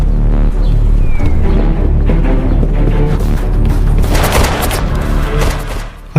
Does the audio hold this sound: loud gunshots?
yes